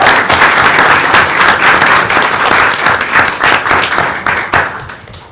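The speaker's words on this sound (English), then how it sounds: "Let's give them a round of applause." A board meeting audience gives a round of applause, with many hands clapping in a dense, steady burst that carries through the whole stretch and tapers slightly near the end.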